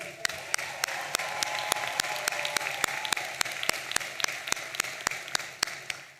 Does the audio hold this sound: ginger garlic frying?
no